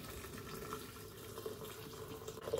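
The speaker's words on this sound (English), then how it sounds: "And I'm using water from the kettle," Hot water from a kettle pours steadily into a Tower soup maker while making red pepper and red lentil soup, a continuous moderate splashing fill heard close up without talk.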